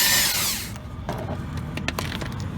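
Power tool whirring loudly on a 13mm bolt holding the front fender flare of a 1999–2007 Chevy Silverado/GMC Sierra pickup, a sustained high whine for under a second, then scattered clicks and rattles.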